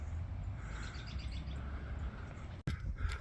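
Sparrows chirp in the morning, small bursts of quick tweets carried over a soft outdoor wash of noise, fairly faint and distant, ending in a brief cut and a closer scuffle.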